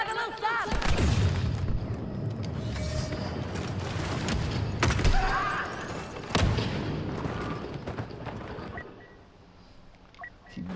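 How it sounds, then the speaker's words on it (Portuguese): A grenade blast in Star Wars Battlefront II on Kessel, a heavy booming explosion with low rumble near the start and another thud midway, over continuous battle noise with people talking throughout. "Granada lançada!"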